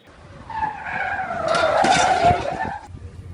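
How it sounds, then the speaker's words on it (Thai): A car skids with screeching tires during a test drive at about 30 km/h, a short rising squeal over engine noise that peaks and then fades. "การทดลองขับในระยะความเร็ว เริ่มจาก 30 กิโลเมตร ต่อชั่วโมง"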